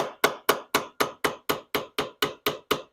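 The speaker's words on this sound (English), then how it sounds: "Just need a pin driver for the roll pin." A hammer strikes a pin driver to knock a roll pin out of a Mikuni carburetor, giving about twelve sharp metallic taps in an even, quick rhythm, loud and close.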